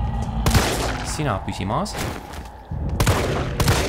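Gunshots in the Resident Evil 3 demo video game: several sharp, loud bangs at the start and again near the end, mixed with in-game noise and people talking over them.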